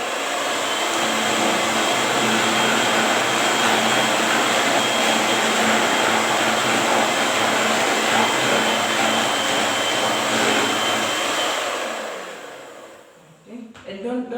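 Electric hand mixer beating zebra cake batter of flour and milk, a steady loud whirring drone held close for most of the stretch before it switches off near the end.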